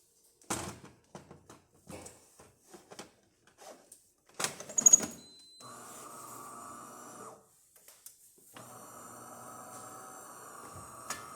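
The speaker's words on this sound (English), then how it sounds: "Let me fill the tank." An Eletta Cappuccino coffee machine having its water tank filled, with scattered clicks and knocks of handling followed by two stretches of steady mechanical humming, quiet and close.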